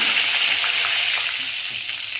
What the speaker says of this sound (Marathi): कढीपत्त्याला मस्त तडका झालेला आहे